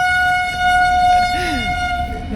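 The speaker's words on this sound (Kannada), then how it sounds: "ನಾನು ಯಾವ ಲಾರಿ ಬಂತು ಅಂದ್ಕೊಂಡೆ ಟ್ರೈನ್ ಹಾರ್ನ್ ಹಾಕ್ಕೊಂಡು" A train passes on a roadside track while sounding its horn, a loud sustained two-tone blare over the rumble of the cars, with a voice briefly heard nearby.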